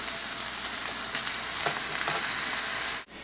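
Tomatoes sauté in a pan, giving a continuous near sizzle with a few soft utensil taps and stirring scrapes, before a brief dip near the end.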